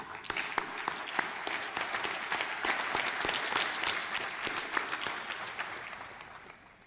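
Sustained, dense applause fills the hall at the official opening of the Namibia International Energy Conference, a steady roar of many hands clapping at even loudness with no talk over it.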